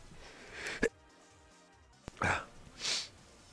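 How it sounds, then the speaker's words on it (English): A single close sneeze, with a sharp burst after a short intake of breath, followed by quieter breathy sounds. "I just sneezed."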